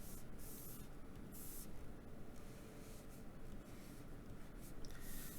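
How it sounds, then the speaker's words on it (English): A pen or marker scratches and rubs across a surface while a small diagram is drawn by hand for a homework problem, giving faint, uneven strokes in short bursts with pauses between them, and no talking. "And so let's draw a little diagram."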